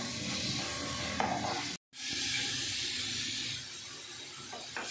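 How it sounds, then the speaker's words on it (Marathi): Mango rava modak filling of semolina, mango purée, jaggery and dry fruits stirred in a hot pan, giving a steady close hiss and sizzle with scraping stirs, broken by a brief silent gap. "मिक्स करून घेते."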